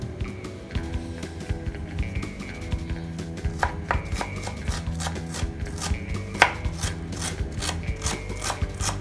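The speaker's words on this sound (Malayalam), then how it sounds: "ഇഞ്ചി ഇതേപോലെ വളരെ ചെറിയ പീസായിട്ട് ചോപ്പ് ചെയ്ത് വെക്കണം" A knife chops ginger into small pieces on a board, with a rapid run of crisp, close taps that speeds up into a dense, even rhythm, alone with no talking.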